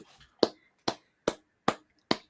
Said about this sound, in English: golf clap, everybody.